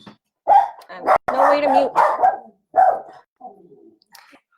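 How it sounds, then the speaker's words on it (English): Dogs barking in short bursts close by at home, under a voice that keeps talking over them. "And the dogs are barking."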